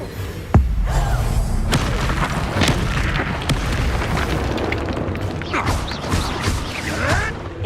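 A Confringo spell blast in Hogwarts Legacy, a sharp booming burst followed by crackling, rumbling debris and clattering combat noise, with brief shouted spell names in the mix.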